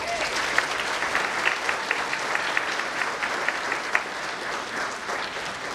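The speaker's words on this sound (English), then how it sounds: "please give yourself a round of applause" A nursing pinning ceremony crowd applauds, a sustained, even roar of many hands clapping with a few sharper individual claps standing out, moderately close.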